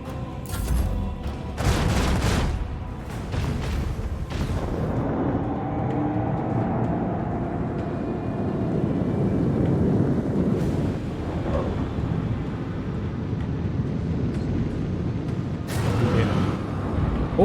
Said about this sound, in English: Let's release some torpedoes.